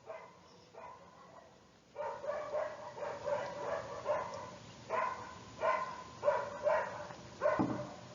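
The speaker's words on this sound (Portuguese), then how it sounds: "Olha os cachorros latindo aí." Dogs bark repeatedly at a moderate distance, in bursts that grow louder and more frequent after a quieter opening, with some whimpering yips mixed in.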